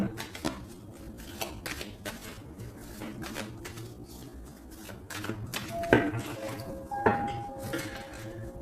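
A deck of tarot cards is cut and shuffled by hand, giving a run of crisp papery flicks and snaps, with a couple of sharper clacks toward the end.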